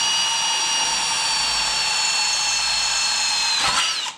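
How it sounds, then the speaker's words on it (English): A power drill whines steadily as it bores a bracket hole for a DBCI rollup door on a pole barn garage build, a loud close high-pitched drone that speeds up briefly and then cuts off at the end. "So the bottom hole is not in the right place. So you got to drill it."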